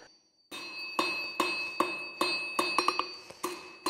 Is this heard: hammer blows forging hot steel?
yes